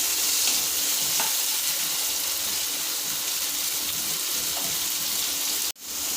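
Chopped onion and three small tomatoes sauté in a hot pan, giving a loud, steady, close sizzle that continues throughout and cuts off abruptly near the end, with no talking.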